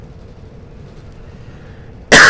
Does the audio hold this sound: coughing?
yes